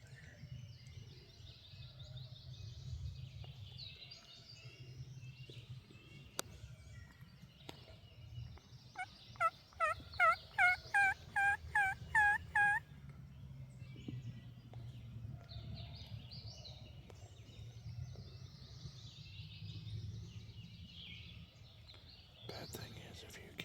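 Wild turkey in Kentucky gobbling at a distance, one rapid rattling burst in the middle over quiet outdoor ambience, with low whispered voices close by.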